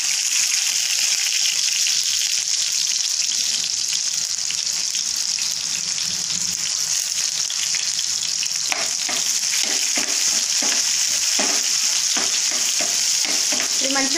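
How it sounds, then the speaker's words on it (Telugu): Sliced onions sizzle in hot oil in a pan for a tomato egg curry, a loud, steady crackling hiss with occasional clicks and scrapes from stirring throughout. "ఆయిల్ వేడి కాగానే ఆనియన్ వేసుకున్నాను"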